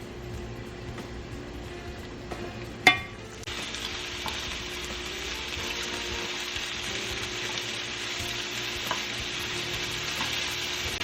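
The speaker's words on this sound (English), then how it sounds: "Once our skillet is nice and hot, we are going to sear our meat" Sirloin steak sears in a hot skillet with a steady, loud sizzle that runs throughout, broken by one sharp clack near the start, likely as the meat goes into the pan.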